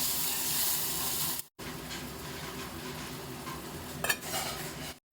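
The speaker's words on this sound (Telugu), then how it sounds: "ఒక నిమిషం పాటు మూత పెట్టి ఆనియన్స్ని బాగా గోల్డెన్ కలర్లో వచ్చే వరకు వేయించుకున్నాము" Onions frying with turmeric in a pan for a mutton gravy curry, a constant dense sizzle broken by two brief dropouts, with a short clink of stirring near the end.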